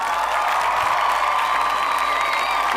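Crowd applause honoring a prize-winning student at a school annual day ceremony, a steady dense wash of clapping with some cheering that fills the whole stretch at close, loud level.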